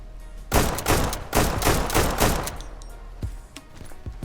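Rapid gunfire in the online shooter Deadside, a dense burst of quick shots lasting several seconds, loud and close, then a few scattered trailing shots.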